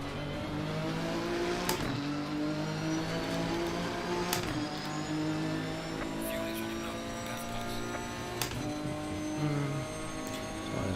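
A race car engine in a racing video game at the Kyalami 9 Hours drones steadily at high revs, with sharp downshift blips and gear changes punctuating it every couple of seconds, fairly quiet and constant.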